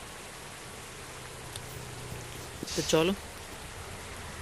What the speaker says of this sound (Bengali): প্যাসেঞ্জার উঠতে না উঠতেই বৃষ্টি শুরু হয়ে গেল